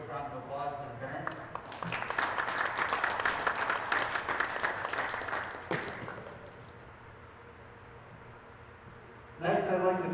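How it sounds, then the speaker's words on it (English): Crowd applause fills a gym at a varsity boys' basketball senior night honoring players' parents, a sustained burst of clapping that swells, then fades to quiet before a voice resumes. "So I want to give a quick round of applause to the parents."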